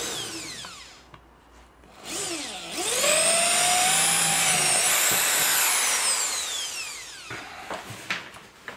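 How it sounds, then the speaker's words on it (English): Electric drill boring through a wooden window sill in a DIY studio build: a loud, close whine spinning up, holding steady for several seconds, then winding down, with a few brief clicks after. "Now I just put a normal drill in to drill the rest of the way through."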